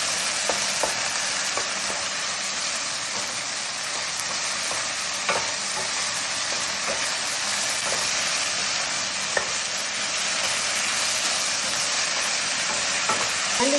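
A pan of spiced food for a Filipino-style musakhan tray is stirred steadily over the heat, a continuous sizzle with scattered scraping clicks from the utensil running throughout, close and fairly loud, with no talking.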